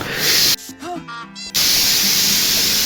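A pressure cooker steams loudly while mutton cooks, a harsh continuous hiss that breaks off for about a second, during which a voice speaks, then returns full strength.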